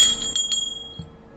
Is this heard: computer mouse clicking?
no